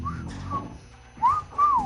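A person whistles a few short rising and sliding notes in uneven bursts, close to the microphone over low background noise, with no other voices.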